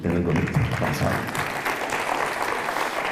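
An audience at a lecture forum breaks into steady applause right after a conductor's greeting, a dense crowd of clapping that holds for a few seconds with a voice mixed in.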